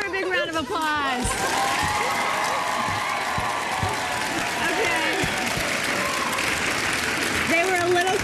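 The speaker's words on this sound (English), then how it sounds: "Give her a big round of applause." A television game show studio audience applauds and cheers a grand prize winner, with steady, loud clapping throughout while a host's voice and music carry over it.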